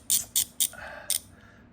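A Pittsburgh thumbwheel ratchet clicks: four sharp, close metallic clicks in an uneven rhythm with a faint ringing rattle between them.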